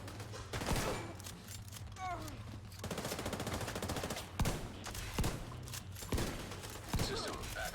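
Rapid bursts of gunfire from The Division 2 video game, with repeated automatic volleys and sharp thudding shots throughout, loud and close, with faint voice sounds mixed in.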